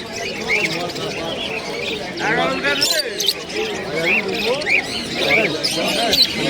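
Pigeons coo and squawk among the birds at a pigeon loft market in Uluberia, a busy close mix of calls with a person talking over them throughout.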